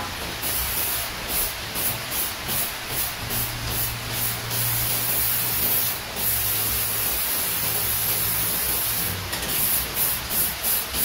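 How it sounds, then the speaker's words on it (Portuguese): High-temperature spray paint hisses loudly and steadily from an aerosol can while a homemade stove built from scrap metal is painted, with short pauses where the nozzle is released. "porque é em spray alta temperatura"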